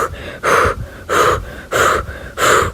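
A voice imitates heavy, panicked breathing, with four loud, close gasping breaths in a steady rhythm, each a long rasping pull of air.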